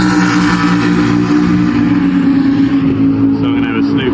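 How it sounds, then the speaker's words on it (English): GT3 race cars ripping around the Donington Park track during a historic festival, a loud, continuous engine roar passing close by while someone talks over it. "Maybe more GT3 cars rip around behind me."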